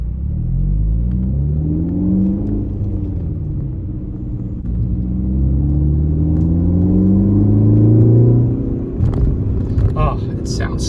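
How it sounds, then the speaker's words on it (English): A Ford Focus ST hot hatch fitted with a Borla S-Type exhaust holds a steady, deep mid-range engine drone that swells and falls with the revs, loud and near, with speech from inside the car over the engine note. "This isn't a super loud exhaust."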